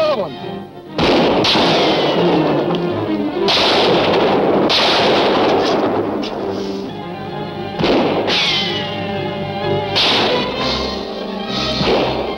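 Gunfire from the video game Phantom Chapter 2: loud booming shots recur every second or two, with heavy thuds and crashes amid dense, busy game noise throughout.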